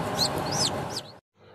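Chickens clucking and calling, a few rising squawks over a steady background of farmyard noise, cutting off abruptly near the end.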